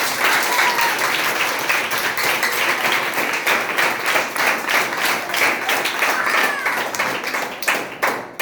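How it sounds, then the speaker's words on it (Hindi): A group of students claps for themselves in a classroom, loud dense applause from many hands at close range, steady throughout with no talk over it. "तो अपने लिए ताली बजाइए आप लोग।"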